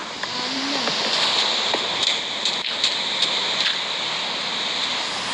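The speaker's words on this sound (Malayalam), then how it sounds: "റിയൽ ലൈഫിന് മഴ പെയ്യുവാ." Steady rain falls outside, a dense even hiss with scattered drops pattering on a nearby surface and no voices.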